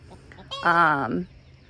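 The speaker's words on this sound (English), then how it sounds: "Freddie is our Bielefelder rooster. So this is Freddie and his girls" A Bielefelder rooster gives one brief, harmonic call among his hens, close and clear against quiet background noise, with no talking.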